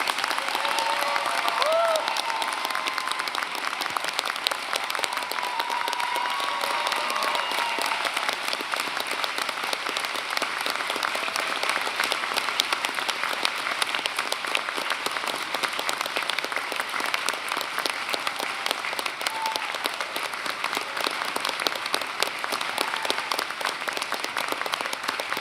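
Sustained applause from a large audience at an art college's spring 2018 commencement ceremony as the MFA graduating class is honored, dense steady clapping filling the hall for the whole stretch with faint crowd murmur beneath.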